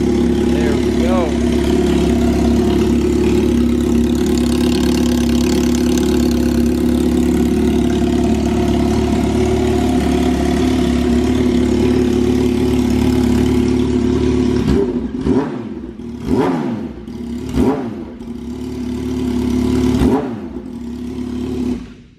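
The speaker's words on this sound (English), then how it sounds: "This thing sounds so sick without the mufflers on it, but that's way too loud to be riding it." A 2007 Yamaha R1 motorcycle runs without mufflers, first a loud, steady, raspy idle, then several sharp throttle blips that rise and fall in quick succession, close and very loud.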